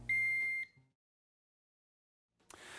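A Megger MIT400 insulation tester sounds its warning buzzer, a loud sustained electronic beep lasting about half a second, then silence before a faint noise returns.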